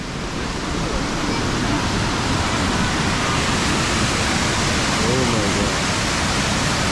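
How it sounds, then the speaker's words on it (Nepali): Water thunders down the Lower Falls in the Pocono Mountains, Pennsylvania, in a dense, unbroken rushing roar that stays loud and close throughout. "पानीको पुरा राप गइरहेको छ"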